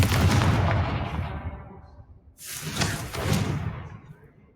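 Two heavy booming blasts from the Confringo fire spell hitting a spider in the video game Hogwarts Legacy, each a loud explosion fading out over about a second, with a short quiet gap between them.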